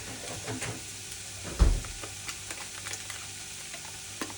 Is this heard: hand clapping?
no